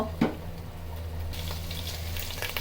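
Soybean oil hits hot hilsa-frying masala in a pan, giving a brief splash followed by a steady, moderately loud hiss and crackle that carries on without a break.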